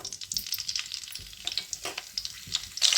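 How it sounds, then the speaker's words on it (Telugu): Green chilies crackle and spit in hot oil in a kadai, a close, busy sizzle full of sharp pops and bursts, flaring louder at the very end. "ఆయిల్ అయితే వేడైపోయింది ఇప్పుడైతే పచ్చిమిరపకాయలు వేసుకుందాం"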